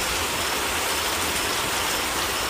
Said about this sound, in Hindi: बारिश इतनी तेज हो गई कि आंखों के सामने कुछ दिखाई नहीं दे रहा था।